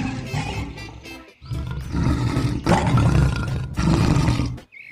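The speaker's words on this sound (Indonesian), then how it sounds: "Wah, ini singa." A lion roars loudly and close in several long, rough bursts separated by brief gaps.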